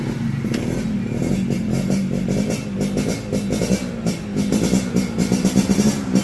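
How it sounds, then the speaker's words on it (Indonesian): Road traffic rumbles nearby, with a motorcycle engine droning and revving over passing cars in a constant loud wash, no talking. "Sorry, banyak soundtrack kendaraan."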